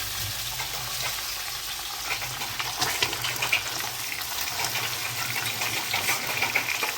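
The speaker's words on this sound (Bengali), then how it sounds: "এই যে এইদিকে তরকারিও বসিয়ে দিয়েছি। পেঁপে আলু দিয়ে তরকারি।" Papaya and potato curry cooking in a pan, a steady soft sizzle and bubbling with faint clinks, continuous and close at low volume with no talk.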